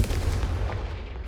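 A Confringo fire spell blast from Hogwarts Legacy: a heavy, booming low-end burst with a rumbling tail that holds for just over a second, loud and alone with no talk.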